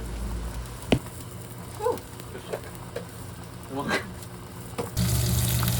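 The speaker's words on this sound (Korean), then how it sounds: "보글보글 끓여주고 무는 오래 끓일수록 맛있다고 하니까 많이 끓여도 될 것 같아요." A pot of squid and radish soup with chili flakes and green chili coming to a boil, quiet bubbling broken by a voice, then a louder, steady rolling simmer near the end.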